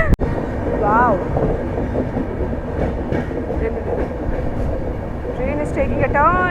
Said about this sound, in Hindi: Train is taking a turn.